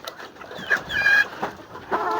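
Chickens clucking in a backyard coop, a few short squawking calls and clucks at moderate distance over a rustling, noisy outdoor background, with no speech.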